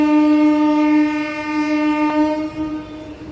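A MEMU train heading toward Vizianagaram Junction sounds its horn in one long, loud, close blast that holds steady for about three seconds, its tone wavering slightly before fading at the end.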